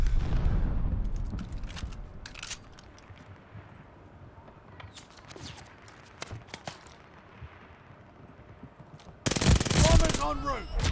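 Gunfire in the shooter Call of Duty Vanguard during team deathmatch aboard the USS Texas: scattered sharp shots and bursts, then a loud sustained rapid-fire burst near the end, with game voice callouts mixed in.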